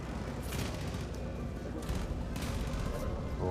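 Dense gunfire from a Far Cry 5 firefight sounds in quick bursts and booms over a few seconds, somewhat muffled and continuous, with faint voices in the background.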